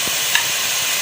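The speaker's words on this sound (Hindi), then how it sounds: "अभी मिक्स कर लेते हैं और अच्छी तरह भून लेते हैं अपने कीमे को।" Beef keema fries with crushed garlic and ginger in a hot pan, a dense continuous sizzle with soft scraping stir strokes underneath, close and fairly loud.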